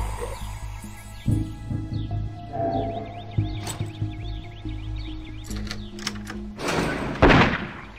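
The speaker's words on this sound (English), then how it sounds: "Oh no! A gunshot!" A single sharp gunshot in the video game Ghost Files: Memory of a Crime, a loud bright crack near the end over soft ambient music and bird chirps.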